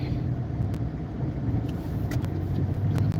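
A car drives onto an expressway with a steady low road rumble and engine hum from inside the cabin, continuous and fairly loud, without talking.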